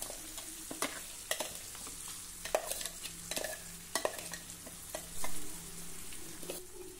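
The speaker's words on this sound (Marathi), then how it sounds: "डाळ व्यवस्थित मिक्स करून घेऊया।" Ground dal frying in oil while being stirred, a steady crackling sizzle under repeated close spoon scrapes and clinks against the pan, with no voices.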